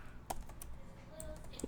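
Several quick, sharp clicks of typing on a computer keyboard, close and fairly quiet, with short pauses between keystrokes.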